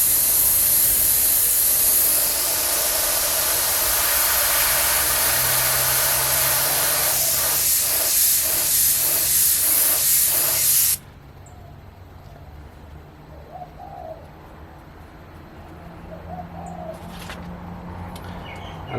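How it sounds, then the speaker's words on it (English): Airbrush spraying paint onto paper for a portrait, a loud continuous hiss of air and paint lasting about eleven seconds, then cutting off abruptly to quiet room noise with faint small sounds. "using the exact same method where we just pull our airbrush away from the paper"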